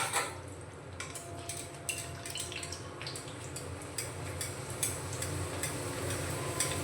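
A dal puri slides into hot oil in a kadai wok and fries with a steady close sizzle, dotted with small crackles and pops throughout.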